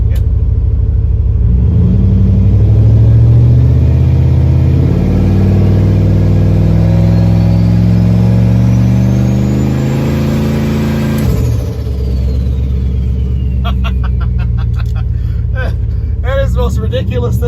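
A turbocharged LS-swapped Caravan accelerates hard from a trans brake launch, heard from inside as a loud, roaring engine whose pitch climbs steadily, dips briefly at a shift, then keeps pulling with rattles and clicks.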